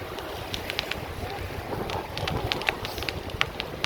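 Wind buffeting the microphone while bicycling along Fort Myers Beach, a continuous rushing roar with faint chirps and ticks scattered above it.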